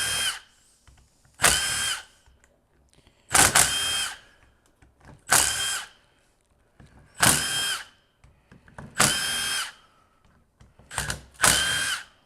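An electric wrench tightens bolts on a 1999 Dodge 4WD in six loud, close bursts of one to two seconds each, whirring and rattling, separated by near-silent gaps.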